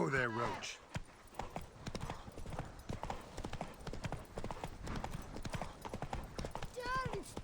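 Roach, the horse in The Witcher 3 video game, trotting with a quick steady clip-clop of hooves throughout, a short whinny near the end, and a voice speaking over the hoofbeats.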